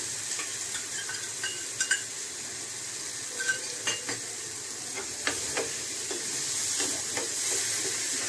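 Mustard paste frying with eggplant in a pan gives a steady low sizzle, with scattered soft clicks and scrapes of stirring throughout, fairly quiet and close.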